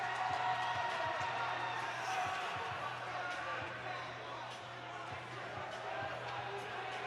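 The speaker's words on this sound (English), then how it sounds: "the crowd is revved up. Boy, listen to them" A revved-up crowd at a high school hockey game, a steady roar of cheering with scattered whoops filling the arena under ongoing play-by-play commentary.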